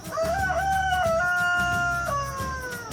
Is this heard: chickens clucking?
yes